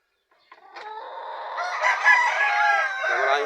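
A young rooster (stag) crows once in a long, loud, close cock-a-doodle-doo from its cage, rising and then holding, with no voices.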